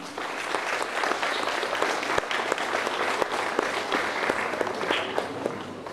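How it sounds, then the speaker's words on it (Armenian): Warm applause from an audience at a book launch ceremony, steady dense clapping throughout with no voices over it. "ջերմորեն ծափահարենք"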